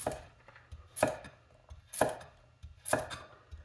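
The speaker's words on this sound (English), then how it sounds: "All right, so the first cut I'll do is the oblique cut." Heavy 352-gram vintage chef knife making oblique cuts through a carrot on a board, four crisp evenly spaced chops about a second apart, close and clear with no talking.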